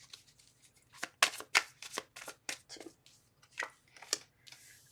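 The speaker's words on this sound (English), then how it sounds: "2 more shuffles." Tarot cards are shuffled by hand, a series of quick riffling bursts and soft slaps in an uneven rhythm, close and crisp, with a brief spoken word.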